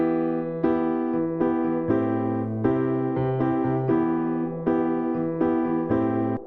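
A piano processed through the Cramit audio plugin plays a steady sequence of sustained chords with clear, even attacks, loud and dense, with no talk.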